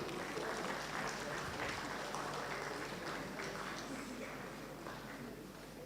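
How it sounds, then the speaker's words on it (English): Graduation ceremony audience clapping steadily throughout, a dense, moderately loud wash of applause that fades slightly toward the end. "Keep coming, keep clapping."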